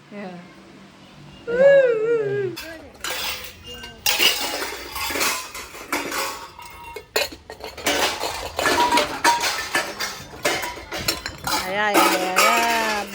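Metal kitchen pots, pans and utensils clanking and clinking in quick irregular bursts while belongings are packed up for a move out of Mumbai, with people talking over the clatter.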